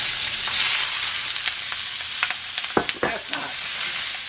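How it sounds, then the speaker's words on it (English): Oil sizzling in a hot pan on high heat for stir-fried broccoli, a steady close frying hiss with sharp crackles and pops in the second half, no talking. "I'm putting about 2 teaspoons of oil in the pan."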